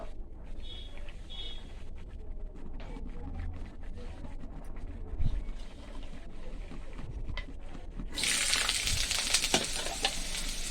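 Spices and boiled potatoes for dal frying in a home kitchen pan: a low steady sizzle with soft stirring scrapes, then a sudden loud hissing burst near the end as more goes into the hot oil.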